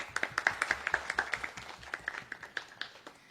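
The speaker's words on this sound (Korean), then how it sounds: "우리 박수로 환영하도록 하겠습니다" A church congregation claps to welcome a visitor during a Sunday service, a brief, fairly faint round of scattered hand claps that thins out toward the end.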